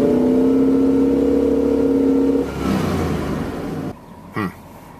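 A truck engine runs steadily with a low, even hum, then its pitch drops and the tone roughens before fading, followed by a brief knock near the end.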